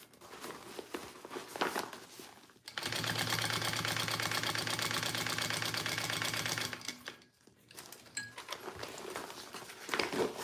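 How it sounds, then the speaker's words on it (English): A sewing machine runs a steady reinforcement line along the top of a crossbody bag, one sustained close burst of about four seconds framed by quieter handling sounds. "I'm just gonna go one more time right next to that stitching that we just did, just to get a little extra reinforcement there."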